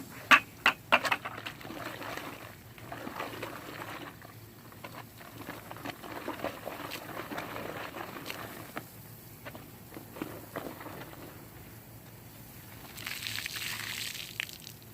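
Fresh water pours into a car wash bucket with a grit guard, splashing and pattering at close range, with a few sharp knocks early on and a brighter gush of filling near the end.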